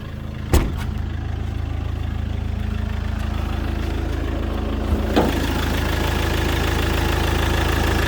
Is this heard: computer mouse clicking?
no